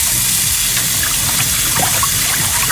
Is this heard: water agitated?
yes